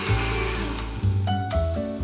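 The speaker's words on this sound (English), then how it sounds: "Then it goes into the blender." A blender runs at full speed through a meatball sauce made with lemon juice, honey, salt and pepper, giving a loud, steady motor drone. Its pitch dips and shifts a few times as the contents churn, with no talk.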